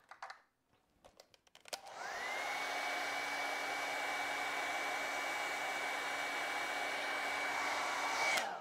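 Steady, loud whoosh of a hair dryer switching on after a few soft clicks and running continuously to dry acrylic paint on a canvas, a constant airy roar with a high motor whine.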